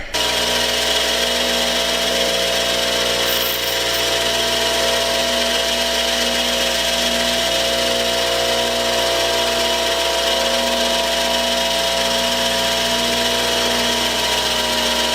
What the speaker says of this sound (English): I'm still going to grind it because there's a sharp little edge on that